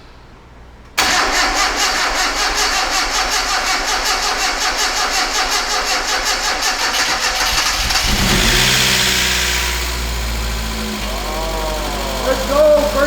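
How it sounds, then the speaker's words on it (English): Rebuilt Mazda Miata engine cranking with a rapid rhythmic churn, then firing up loudly and settling into a rough idle, with blips of revving near the end and a voice speaking over it. "Let's go, first crank, baby. I told you. It really runs good."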